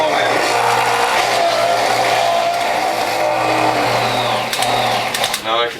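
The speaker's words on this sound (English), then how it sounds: "Now I can tell my motor's working hard, and that's because the grid needs cleaning" A juicer motor grinds steadily and strains while juicing carrots, its grid clogged and needing cleaning; a loud, continuous close hum with a low tone runs throughout, and a short clatter comes near the end.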